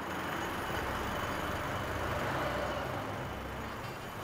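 Cars and trucks crossing a road bridge, heard as a faint, even traffic rumble with no single vehicle standing out.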